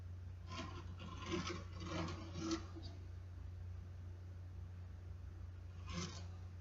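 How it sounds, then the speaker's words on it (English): A blade knife cuts leather for a lined cell phone case, giving soft, close rasping strokes in a short burst, then quiet, then one more brief scrape, with no voices. "push my blade in and pull out."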